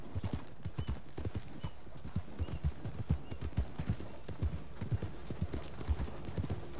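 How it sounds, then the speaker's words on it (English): Horse hooves clip-clop steadily in Red Dead Redemption, a rhythmic run of close, distinct hoofbeats throughout with no talk over them. "This daggone horse is slow."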